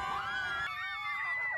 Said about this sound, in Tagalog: Malalakas na hiyawan